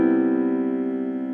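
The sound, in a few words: piano playing seventh chord harmony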